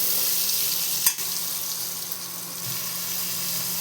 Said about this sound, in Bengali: ডাঁটাটা হালকা করে ভেজে নেব একটু।